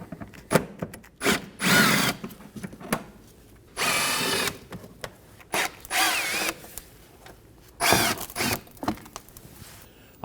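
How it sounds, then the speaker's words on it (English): A power drill with a T30 Torx bit backs out fender liner screws on a 2014-2023 Ford Transit Connect, whirring in several short bursts of one to two seconds separated by pauses and small clicks, close and fairly loud. "Now I'll be using a T30 Torx bit to remove these."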